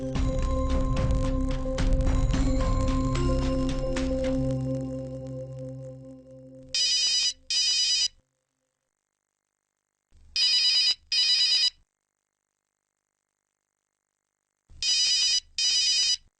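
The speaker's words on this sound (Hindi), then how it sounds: "बाकी का फोन।" A phone rings in repeated electronic double bursts separated by silent gaps, following a fading stretch of music-like sound.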